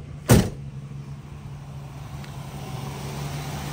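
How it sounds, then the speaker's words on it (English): A 1968 Ford Mustang with a six-cylinder engine runs at a steady low idle, a continuous close drone after a brief thump at the start. "So the motor runs and drives really well."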